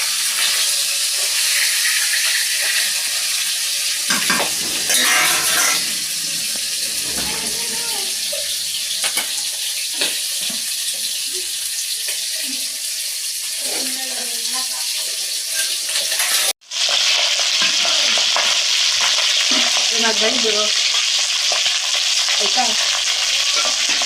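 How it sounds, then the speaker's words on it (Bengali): Fish sizzles as it fries in a pan while being stirred, a loud continuous crackle with scraping and clinks, a short break near the end before the frying noise resumes; a voice speaks briefly over it. "এই মাছটা যে ভাজা হয়ে গেছে।"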